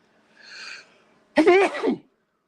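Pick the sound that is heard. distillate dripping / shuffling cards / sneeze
sneeze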